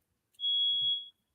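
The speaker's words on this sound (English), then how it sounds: "You may hear an alarm going off behind me." A smoke alarm gives off a single sharp, steady electronic beep lasting under a second, a false alarm sounding fairly clearly in an otherwise quiet room.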